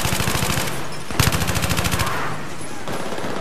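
Rapid automatic bursts from an F2000 assault rifle in Battlefield 3, loud and close, two strings of fast regular shots broken by a short pause, with a louder crack at the restart.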